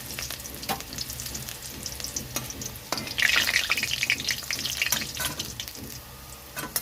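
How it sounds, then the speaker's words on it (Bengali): Garlic and dried red chillies sizzle in hot mustard oil in a kadai, a steady close crackle with brief sharper spits and a louder burst of frying partway through. "রসুন আর শুকনো লঙ্কাটা একটু ভাজা হয়ে গেছে"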